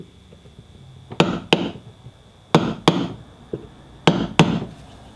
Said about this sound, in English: slowly tap on it with the hammer